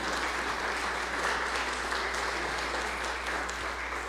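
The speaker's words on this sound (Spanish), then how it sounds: "Un aplauso, claro que sí." A church congregation applauds a couple celebrating their wedding anniversary, continuous, evenly spread clapping from many hands that holds steady for the whole stretch over a low background hum.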